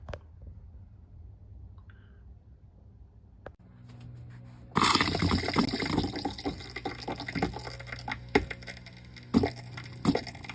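Water starting to run from an RV or camper plumbing line, fed by a garden hose during a check for low water pressure and leaks, after a quiet start and a few clunks, then a loud steady gush with knocks and splashes.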